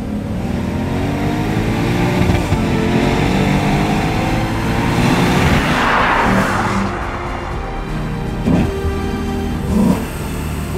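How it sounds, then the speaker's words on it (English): A 2022 Lexus IS 500's naturally aspirated 5-litre V8 revs hard toward 7,500 RPM and climbs in pitch, roaring steadily for several seconds before dropping back, with a couple of short blips near the end. "With this naturally aspirated 5-litre V8"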